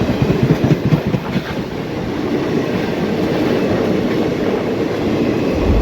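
Train running on rails between Nanded and Shegaon, a steady, loud rumble with rhythmic clickety-clack of wheels over rail joints throughout, continuous and close.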